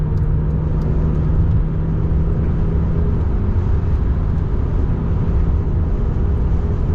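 Loud, steady engine and road rumble from inside a car on a motorway, a constant low drone with no talk.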